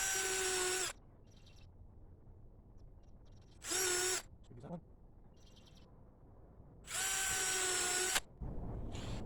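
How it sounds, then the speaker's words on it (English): A power drill pre-drills holes in 3/4-inch plywood, whining in three short bursts separated by pauses, with faint bird calls and quiet background sounds between the bursts. "now I can pre-drill some holes and attach it"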